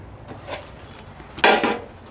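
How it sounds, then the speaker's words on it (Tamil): A lid set onto a pot of mushroom biryani in a home kitchen, with a faint metallic touch followed by a single short, close clatter as the lid settles on the rim. "இப்போ இது மூடி போட்டுருவோம் மூடி போட்டால் சீக்கிரமாக வேகம் அதனால் மூடி போடுறோம்"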